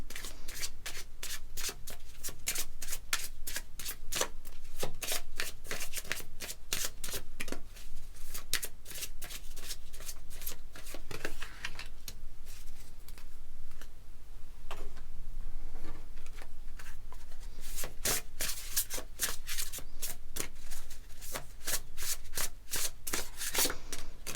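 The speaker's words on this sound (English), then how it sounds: "So I will shuffle your decks and just give me like half a minute" Rapid, crisp tarot card shuffling repeats in bursts of riffled flicks and soft rubs, continuous and close, with no talking.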